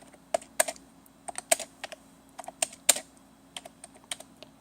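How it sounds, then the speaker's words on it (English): Quick, uneven keystrokes clatter on the keyboard of a Dell OptiPlex GX150 USFF computer, typing into a document, with bursts of clicks and brief pauses, close up and alone. "just do some typing"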